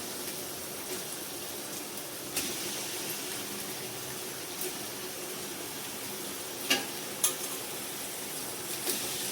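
Chicken sizzles and fries in a hot pan for Rayalaseema-style biryani, a steady, close hiss broken by a few scraping stirs and clinks.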